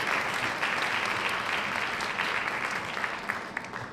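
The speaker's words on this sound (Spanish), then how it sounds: "Bienvenida, Juana, un aplauso." Audience applause at a Mexican women-in-leadership forum: a full, dense wash of clapping from a crowd, steady and sustained from start to finish with no speech.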